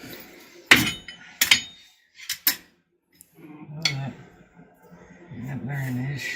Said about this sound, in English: Smack that center nut with a mallet.